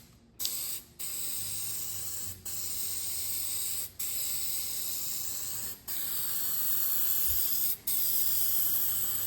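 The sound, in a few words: spraying Meguiar's headlight coating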